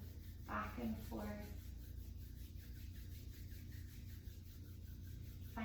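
Palms rub briskly back and forth at chest level, a faint close swishing friction under a quiet room hum, with a voice speaking briefly near the start.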